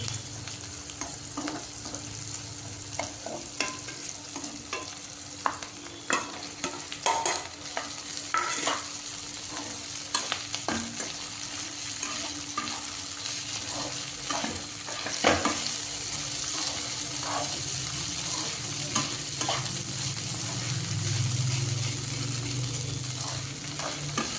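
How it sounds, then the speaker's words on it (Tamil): Flattened rice (poha) stirs and fries in a pan for upma, a steady close sizzle broken by frequent scraping strokes of a spoon against the metal, continuing without talk. "இப்போ அவல் எடுத்து அதிலே கொட்டிடுறேன்"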